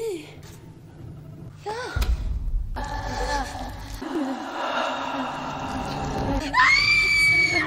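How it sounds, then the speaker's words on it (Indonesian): A woman in a horror film screams hysterically in several loud, strained bursts broken by gasps and panting, with tense background sound between the cries. "Ina pun berteriak histeris."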